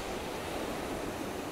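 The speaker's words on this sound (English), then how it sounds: "the waves are pretty big today, probably 4 or 5 feet. It's a pretty windy day, but not too bad. But the waves are just crashing in" Large waves of four to five feet crash onto the Lake Erie shore near the mouth of Porter Creek on a windy day. The surf makes a loud, continuous rushing roar with no talking.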